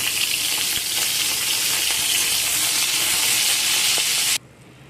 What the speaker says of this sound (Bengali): পটল দুটোকে ভেজে নেব।